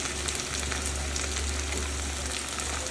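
Chopped tomatoes and onions sautéing together in a pan for a soybean curry, a steady, soft sizzle over a low hum with no talking.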